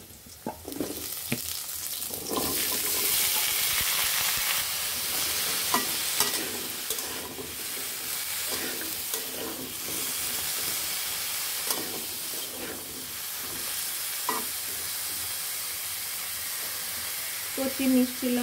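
Vegetables, tender sweet bottle gourd, hit hot oil where nigella seeds have just fried, setting off a loud, steady sizzle with stirring scrapes and spatters that runs the whole time, a voice briefly speaking near the end.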